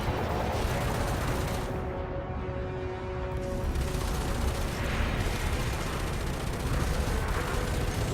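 Corrosive cannon fire from a spaceship in the space combat game Elite Dangerous, a dense continuous barrage of heavy booming shots and rumbling impacts over a loud mechanical drone throughout.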